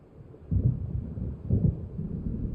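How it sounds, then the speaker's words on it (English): Low, rolling thunder from an approaching storm in the video game Alan Wake, swelling in two deep rumbles about a second apart over a faint windy background, with no talk. "It seems there's a storm coming."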